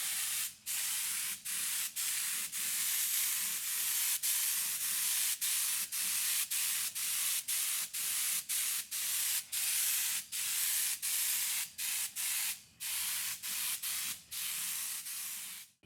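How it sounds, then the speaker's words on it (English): Spray gun laying a heavier second coat of acetone-thinned paint onto a barn-find car's repaired quarter panel, a steady loud hiss broken into many short bursts by brief trigger releases, with no voices. "Here's coat number 2. We'll put this one on a little heavier and blend it up a little higher."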